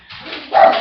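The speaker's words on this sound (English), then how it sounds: "That's my dog." A dog's bark in a Minecraft Mo' Creatures setting, a single short yip-like bark that rises in loudness near the end, brief and close, without any talk over it.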